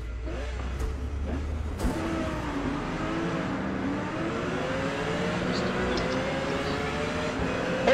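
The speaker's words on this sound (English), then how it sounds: "Can you hear other cars revving?" Racing cars in the Forza Motorsport video game revving their engines, a steady layered engine drone with shifting pitch running throughout at a constant loud level.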